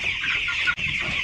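A flock of chickens clucking on pasture, part of a flock of over 400 birds, a dense chorus of overlapping clucks and chatter close by with no voices.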